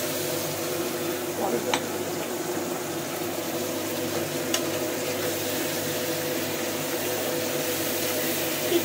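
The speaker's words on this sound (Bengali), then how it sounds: "দিয়ে এটাকে এবার সুন্দর করে মা এবার ভাজা ভাজা করবে।" Tomato and spice masala frying in a pan for a spring onion and potato curry, a steady moderate sizzle running throughout with a couple of faint utensil clicks, and talk heard over it.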